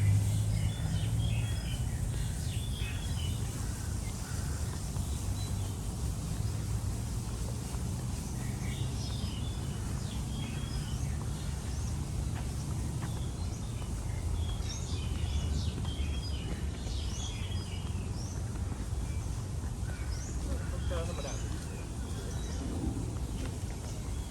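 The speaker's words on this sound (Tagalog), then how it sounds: "Daming ibon, daming uwak." Birds and crows call now and then across a park in Bangkok, Thailand, scattered chirps rising over a steady hum of distant outdoor ambience with no talking.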